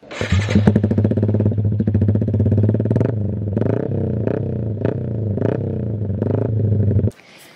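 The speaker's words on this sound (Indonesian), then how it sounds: "Untuk yang penasaran dengan suara knalpotnya, aku cantumin di sini." Aftermarket exhaust on a bore-up Yamaha Jupiter MX King road-race motorcycle, idling close up with a loud, steady throb and repeated sharp blips of revving, then cutting off abruptly near the end.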